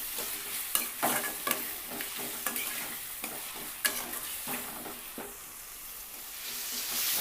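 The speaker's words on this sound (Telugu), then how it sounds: "టమాటా ముక్కలు కూడా కొంచెం ఈ ఆయిల్లో మగ్గాలి." Tomato pieces fry in hot oil with a steady sizzle, while a utensil repeatedly scrapes and stirs through the pan in quick irregular strokes, close and moderately loud.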